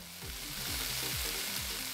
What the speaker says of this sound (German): Der Kollege hier brutzelt jetzt schon ordentlich durch.